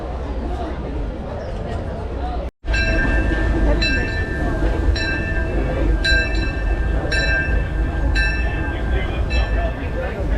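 Disneyland Railroad train rolling along, a steady rumbling clatter with rhythmic metallic clicks from the wheels, heard from aboard while a recorded announcer's voice speaks over it.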